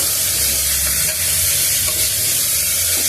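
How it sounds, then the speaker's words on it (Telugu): Minced mutton keema is stirred in a hot pan, giving a steady broadband sizzle and hiss with soft scraping movement throughout, close and fairly loud, with no talking. "కైమా కూడా వేసేద్దాము మటన్ కాయ ఇది కొంచెం బాగా కలిపేద్దాం"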